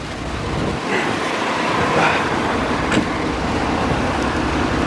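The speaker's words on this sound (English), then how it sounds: "Got a truck over here coming down the hill right now" A truck rolls down a hill on an interstate highway, a broad, continuous road rumble with tire and wind noise that swells slightly midway, close and fairly loud.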